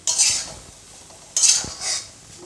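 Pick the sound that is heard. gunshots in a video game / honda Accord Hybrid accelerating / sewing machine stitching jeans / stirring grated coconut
stirring grated coconut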